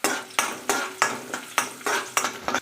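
Chopped onion frying in a pan for semolina upma, with repeated sharp stirring scrapes about every third of a second over a steady sizzle, close and fairly loud.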